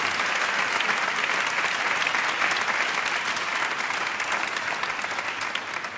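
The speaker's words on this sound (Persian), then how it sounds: "حالا تشویق کنید" Steady, dense applause from an audience at a Quran recitation gathering, loud and continuous for several seconds before tapering slightly toward the end.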